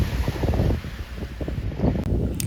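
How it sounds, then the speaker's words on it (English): Wind buffets the microphone in a steady, low rumbling roar with gusty fluctuations on Kentucky Lake, filling the whole stretch without any voices. "It was a little windy this day."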